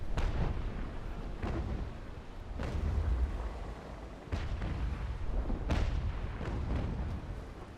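Cannon shots from a cutter ship in Naval Action: Legends boom out one at a time, about five heavy reports spaced a second or more apart over a rumbling sea-battle background.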